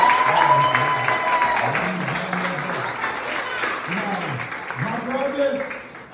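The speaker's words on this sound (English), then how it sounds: "Applause for Barbara right now." Applause breaks out for Barbara at a kizomba dance workshop, a steady crowd clapping that runs throughout while voices talk and call out over it close by.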